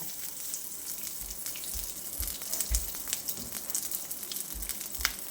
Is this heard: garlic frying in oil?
yes